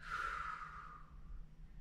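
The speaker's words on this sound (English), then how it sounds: "Deep breath in. Deep breath out." A deep breath in and out at a children's library storytime, a soft, airy, continuous breath lasting under two seconds over low background hum, with no speech.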